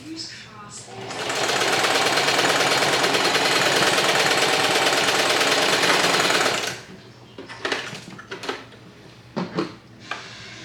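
A sewing machine stitches scrunchies in one loud, continuous run of several seconds, then stops, leaving scattered handling clatter and light bumps.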